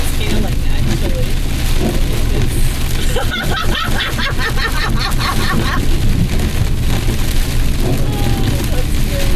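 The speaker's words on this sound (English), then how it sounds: "it's fucking pouring and it's dark and there's lightning." Heavy rain pours steadily while a 20-foot rental truck drives along Maryland Route 67 at night in a lightning storm, forming a dense wash of noise with low engine and road rumble and a few deep booms, as people talk over it.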